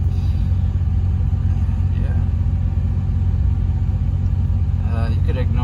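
A warmed-up car engine fitted with a Digi Dizzy distributor idles in a continuous low, even rumble up close, with someone speaking briefly over it toward the end.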